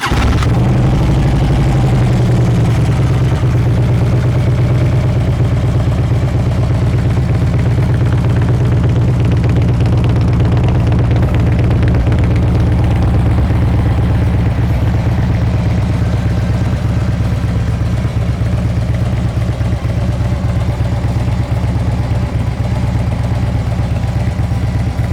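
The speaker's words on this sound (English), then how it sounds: "We'll go ahead and start her up. It's stock exhaust and it actually sounds really good." A stock-exhaust 2011 Harley-Davidson Road King Classic with a 103 ci engine cold-starts, then settles into a loud, close, steady, lumpy idle that holds for the whole stretch with no talking.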